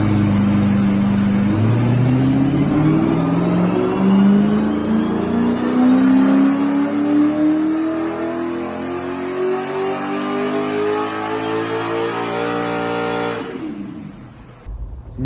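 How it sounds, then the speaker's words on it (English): A naturally aspirated V8 engine of a stock Mercedes SLS AMG 63 revs loud and close, its pitch climbing steadily for several seconds before cutting off abruptly near the end. "It's a stock SLS AMG 63 all motor, normally aspirated engine."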